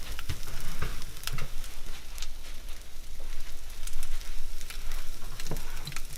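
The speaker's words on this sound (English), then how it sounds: "You will hear a sizzling noise" Steady, loud sizzling of liquid hitting a hot pan, with crackling pops scattered throughout and no voices.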